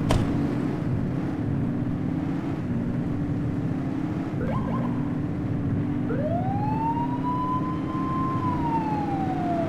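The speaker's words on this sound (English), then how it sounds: "Turn that siren off." A police car siren in The Precinct video game wails close and loud over a low engine drone, with a rising, sustained tone that sweeps up and holds.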